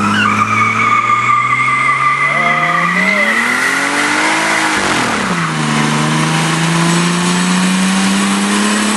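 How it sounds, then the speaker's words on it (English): Loud, continuous tire squeal from a 2JZ-swapped truck with a T67 turbo doing a brake stand, the engine droning and rising in pitch, then dipping and climbing again, with no talk. "Do a little brake stand for the fellow viewers"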